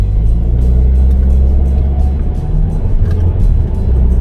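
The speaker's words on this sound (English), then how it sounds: "First, you gotta wait for a big F-150 to go by." A big Ford F-150 pickup truck drives by on a road near downtown Ishpeming, making a loud, steady low engine rumble that fills the whole stretch with no break.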